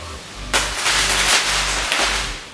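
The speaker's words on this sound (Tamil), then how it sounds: "ஃபயர் கிராக்கர்ஸ், அதாவது பட்டாசு தான் விளாண்டு தான் நான் இப்போ செலிப்ரேட் பண்ணுவேன்." Firecrackers go off at a Deepavali celebration in a loud burst of crackling bangs that continues as a dense, sustained clatter, heard up close with no talk.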